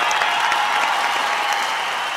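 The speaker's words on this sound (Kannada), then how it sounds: "ಬರ್ಲಿ ಚಪ್ಪಾಳೆ ಬರ್ಲಿ" A studio audience applauds on a Kannada television comedy show after a sketch, a brief, even burst of dense clapping at a steady level with no voices over it.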